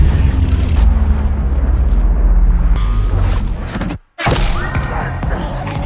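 A grenade goes off in an action film, a loud booming blast over a dense rumble that holds for several seconds, broken by a brief silent gap before the noisy burst resumes.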